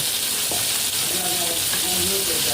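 Salted shrimp frying in a hot kadai, a dense close sizzle with spitting crackles and the scrape of a spatula stirring, no clear talk over it.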